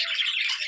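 A pet bird gives a single short, harsh squawking call, close and fairly loud, with no talk over it.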